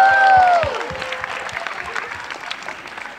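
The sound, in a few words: audience applause for students at a school concert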